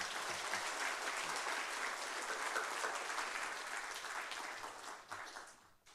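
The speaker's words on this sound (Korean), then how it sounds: "나오실 때 뜨거운 박수로 환영하겠습니다." A church congregation at a Friday worship service gives warm applause to welcome a pastor to the pulpit, continuous clapping from a crowd that tapers off and fades out near the end.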